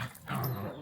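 Dogs scuffling at a house in Thailand, a short burst of low growling and snarling that swells midway and holds at a moderate, close level.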